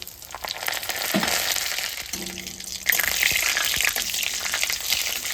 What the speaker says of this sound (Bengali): এবার আমার জিরা তেজপাতা ভাজা হয়ে গেছে